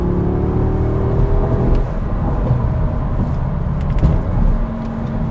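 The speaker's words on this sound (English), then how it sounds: "And then accelerating onto the interstate" A 2022 Audi S3 accelerates hard onto the interstate, its engine droning loud and steady inside the cabin with a rising tone and a low road rumble throughout.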